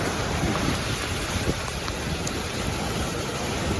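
Cars pushing through water on a flooded street after rain, a continuous loud wash and splash with broad rushing noise and no talk.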